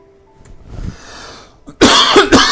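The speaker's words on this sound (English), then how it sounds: "Cough, cough." A single harsh cough bursts out close and loud after quiet room noise, followed by a second shorter cough.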